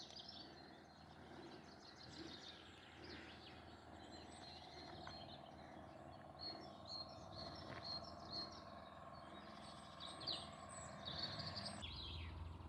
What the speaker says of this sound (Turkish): Şu kuş seslerine baksana. Ne güzel vallahi.